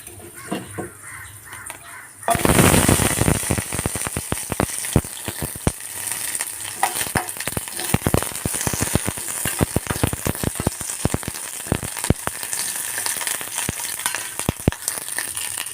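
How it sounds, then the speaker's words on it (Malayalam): Okra and fenugreek seeds fry in coconut oil for sambar, starting with a sudden loud burst of sizzling that settles into steady crackling and spitting with occasional stirring taps, close by. "കുറച്ച് വെളിച്ചെണ്ണ ഒഴിച്ചെടുത്തിട്ട് വെണ്ടയ്ക്ക വറുത്തെടുക്കാം."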